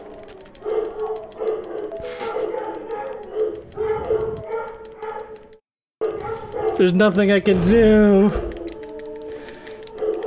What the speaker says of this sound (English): They're just gonna keep howling.